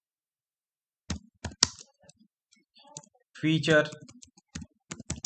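Someone types on a computer keyboard while entering a configuration name in endpoint management software, giving a few close, sharp clicks in short bursts, with speech in between.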